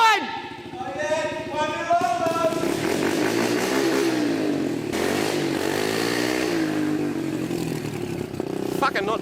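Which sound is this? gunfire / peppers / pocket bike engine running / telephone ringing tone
pocket bike engine running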